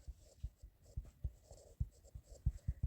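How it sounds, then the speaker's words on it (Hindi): Pen strokes scratching across paper while working a linear equation problem, a close run of short rhythmic scrapes and taps with no talk. "अलग अलग पेन की खूबसूरती से लिखते हैं"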